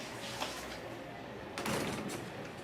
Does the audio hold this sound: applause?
no